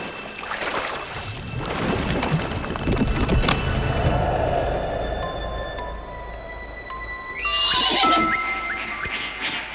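Cartoon horse whinnying at close range, a high shrill neigh rising near the end, preceded by mixed clattering and rumbling effects at moderate loudness.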